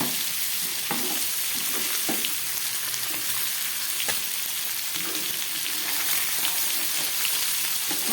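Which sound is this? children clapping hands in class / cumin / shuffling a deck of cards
cumin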